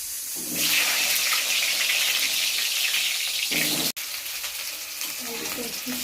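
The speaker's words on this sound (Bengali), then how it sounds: "এখন আমি আলুগুলোকে ভেজে নেব।" Potatoes frying in hot oil in a kadai, giving a steady, loud sizzling hiss that starts after a brief quiet moment and carries on with a short break partway through.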